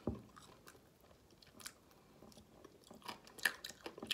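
Someone chews McDonald's food bought in Germany close to the mic, with soft wet bites and faint crunches in an irregular rhythm. The sounds are quiet and there is no talking.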